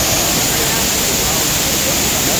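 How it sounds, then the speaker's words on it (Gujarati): Floodwater from a risen river rushes loudly and steadily as broadband roar near a waterfall at Jata Shankar, close and continuous throughout with no clear speech. "અહીંયા પાણી જોરદાર વધી ગયું છે જો"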